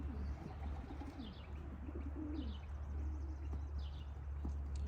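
Racing pigeons let out on a first training toss, their soft cooing and fluttering calls drifting at moderate distance over a steady low outdoor hum, with occasional faint chirps.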